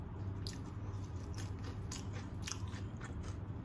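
Crispy fried whitebait sardines eaten bones and all give off soft, repeated crunchy bites and chewing close to the mouth, quiet and without talk.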